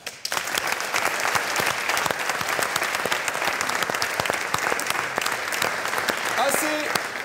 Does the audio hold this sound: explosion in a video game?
no